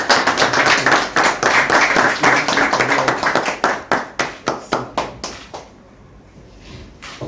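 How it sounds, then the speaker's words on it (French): Applause at a handover ceremony at the Prosecutor General's office of the Constitutional Court, dense clapping from a gathered audience that thins into a few scattered claps before fading out. "Et sous vos applaudissements"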